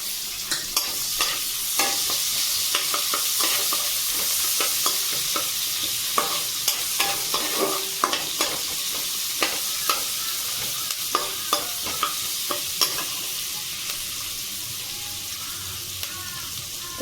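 Chopped onion frying in oil in a pan for a Bengali tilapia curry, with a loud steady sizzle and repeated scraping clicks from stirring, close up, with no voices heard.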